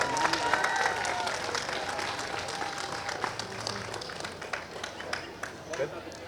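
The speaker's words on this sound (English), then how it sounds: "Thank you, everybody, for cheering." Spectators at the 2021 Minto US Open Pickleball Championships applaud and cheer after a pro mixed gold-medal match. Dense, close clapping starts loud and slowly thins, with people talking over it.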